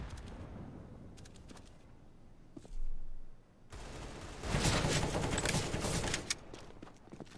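Gunfire in a Counter-Strike match on the Dust2 map: scattered shots early, then a sustained burst of rapid automatic fire in the second half, fairly loud and up close.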